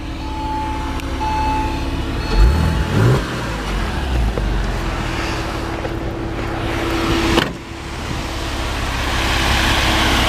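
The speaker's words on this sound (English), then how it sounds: "Nice, smooth running little 911 motor." A 2003 Porsche 911 Carrera Cabriolet engine cranks and catches around the two-second mark, then settles into a steady, smooth idle with a low hum and a brief blip later.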